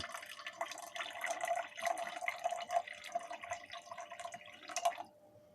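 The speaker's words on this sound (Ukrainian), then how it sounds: "Азотку догасив сульфамінкою і заливаємо залізний купорос" Iron sulfate solution being poured into a gold refining mixture after nitric acid is neutralised with sulfamic acid, a close, steady trickling splash for about five seconds that then stops.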